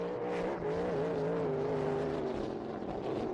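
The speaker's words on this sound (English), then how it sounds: "You can hear it on deceleration. The engine's just not happy" Race car engine at a memorial race meeting, running roughly down the front straight, a loud continuous drone with wavering pitch that stutters and backs off, heard up close with no talk over it.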